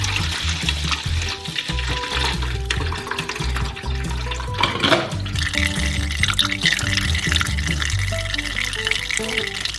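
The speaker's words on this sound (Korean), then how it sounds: "채로 걸러 양동이에 부어주세요." Freshly squeezed orange juice pours through a sieve into a bucket, a continuous splashing liquid stream with clattering and handling noises, close and fairly loud throughout.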